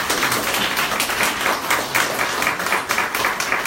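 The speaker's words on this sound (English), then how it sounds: "I think that deserves a really big round of applause." Sustained audience applause fills a room at a Krakow Enterprise Mondays business meetup held at an agricultural university, dense steady clapping from many hands at an even level throughout.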